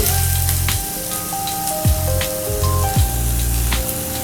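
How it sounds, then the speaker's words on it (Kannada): Onions frying in oil in a pan, giving a steady, close, fairly loud sizzle with a crackling texture, while tonal whines and low hums from other kitchen sounds run underneath. "ಆನಿಯನ್ನ ಸ್ವಲ್ಪ ಫ್ರೈ ಮಾಡ್ಕೊಳ್ಳೋಣ ಆನಿಯನ್ನು ಸ್ವಲ್ಪ ಬ್ರೌನ್ ಬ್ರೌನ್ ಫ್ರೈ ಆದಮೇಲೆ"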